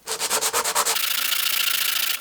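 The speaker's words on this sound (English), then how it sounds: "you can actually sand it pretty quickly to get that edge knocked down" Rhythmic rubbing strokes of sandpaper on a cedar edge, about eight distinct passes, then a steadier continuous scraping hiss, close up.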